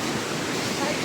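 Floodwater rushing down a swollen river, a dense, steady roar of churning water filling the short moment without pause, close and constant.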